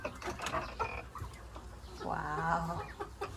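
A chicken clucks on a Serbian village farm at an ethno park, a few scratchy clucks followed by one louder drawn-out cackle near the middle, close by amid a noisy outdoor background.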